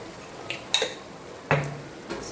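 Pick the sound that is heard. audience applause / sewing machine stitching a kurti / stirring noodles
stirring noodles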